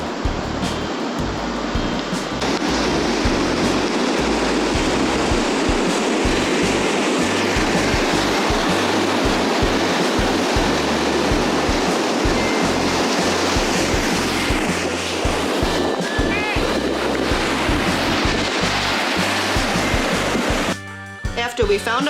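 Huge winter storm waves from a bomb cyclone pound the shore at Santa Cruz, California, a loud continuous roar of surf and rushing water, with heavy wind rumble throughout.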